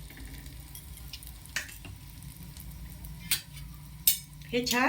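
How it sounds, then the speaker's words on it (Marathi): A buttered sandwich toasting in a pan while being pressed down, giving a steady low sizzle with a few sharp scrapes and clinks near the end; a brief spoken remark comes in. "दाबून दाबून आपण याला शेकून घेणार आहोत"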